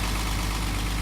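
A 1970 Mercedes-Benz 280 SL engine idles close by, a deep steady rumble through the exhaust with an even low pulse, no voices.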